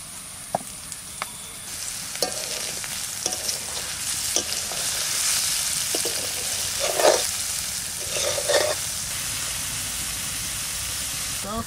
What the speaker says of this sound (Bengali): ছাতু ভাজতে ভাজতে মশলা করা হয়ে গেল।